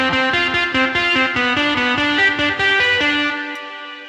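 A Telecaster electric guitar runs through a Little Big Distort amp and a compressor, playing a loud run of distorted, effects-heavy power chords with steady rhythmic attacks, then letting the last chord ring and fade.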